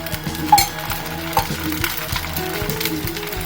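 Adai batter, a thick rice batter with drumstick leaves, cooking in ginger oil on a hot pan, giving a steady close sizzle with a few brief clinks of a utensil, no talk.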